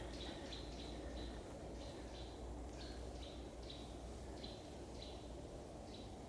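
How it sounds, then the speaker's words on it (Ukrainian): A small bird sings in an autumn forest, repeating short high chirps in a regular series over a steady background hiss, fairly distant and faint. "Чуєте, як пташка співає?"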